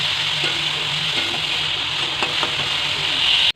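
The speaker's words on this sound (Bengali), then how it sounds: "এখানে সবজিটাকে এখন রান্না করছি বাঁধাকপি আছে আলু কুচি আছে গাজর" Chopped cabbage, potato and carrot frying in a pan give a steady, loud close-up sizzle throughout, with a few soft stirring knocks and no talking.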